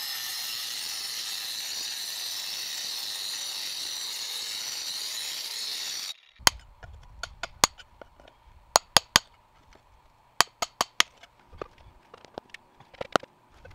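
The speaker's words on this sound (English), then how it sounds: "I put a diamond blade on my angle grinder and got to work cutting the first straight edge." A diamond blade on an angle grinder cuts a straight edge through a concrete paver stone outdoors, a loud steady grinding whine for about six seconds that cuts off abruptly, followed by scattered sharp clinks and knocks.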